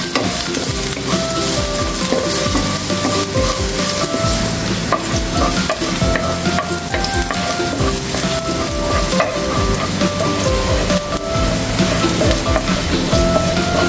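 Garlic sizzles steadily in a hot pan as a utensil stirs it with repeated scraping strokes, a loud, continuous frying hiss with no talking.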